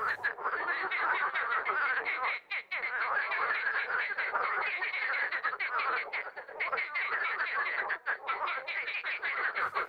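A dense, continuous chorus of green water frogs croaking, many calls overlapping in a rapid rattling rhythm with no pauses, fairly loud and steady throughout.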